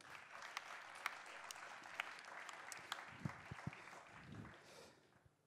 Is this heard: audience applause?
yes